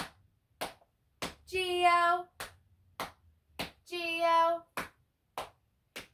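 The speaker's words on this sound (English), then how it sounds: "How many claps do we have this time?" Sharp, close hand claps keep a steady beat through the children's Bingo song during a storytime session, coming in short groups of three that alternate with bursts of a single voice singing.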